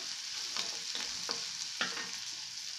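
Onion frying lightly in a pan, with a steady soft sizzle and a few short scraping stirs spaced through it, close and moderately quiet, no voices.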